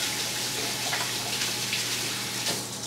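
Tap water runs steadily into a sink during handwashing, a close, continuous hissing splash with no talk.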